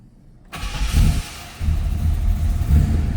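A 1968 Chevrolet Chevelle Malibu with a 400 cubic inch blueprinted V8, Holley 4-barrel and HEI ignition, cranks and catches after a short silence, then blips loudly and settles into a loud, lumpy rumble with a second rev.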